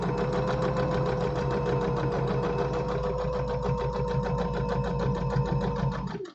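A sewing machine stitching a French seam with a quarter-inch allowance, running steadily at speed with a rapid, even mechanical chatter for about six seconds before slowing to a stop.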